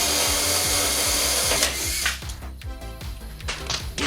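A power drill bores into the body of a Renault 4L, a steady loud whirring that falters and turns ragged as the drill bit breaks.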